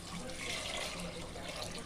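Water pours steadily into a pot of gravy for a soup, making a continuous, soft splashing stream that stays even and fairly faint throughout.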